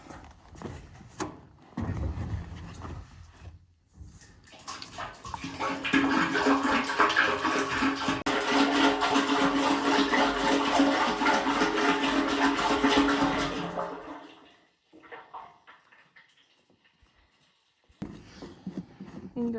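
About 20 to 25 litres of fluid poured into an excavator during a night breakdown repair, a steady broadband gush lasting roughly ten seconds, bracketed by quieter handling noises.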